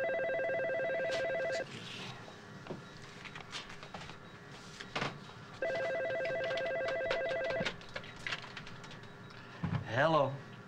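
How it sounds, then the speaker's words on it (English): A telephone bell rings in two long bursts, loud and close, with someone talking over and between the rings. "Is that the phone?"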